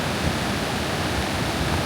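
Floodwater rushes loud and steady down a dry creek bed in northern New Mexico during a flash flood, a dense continuous roar with no voices.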